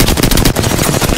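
Dense, loud automatic gunfire from Apex Legends, overlapping rapid shots with no letup, heard close and continuous throughout with no talking.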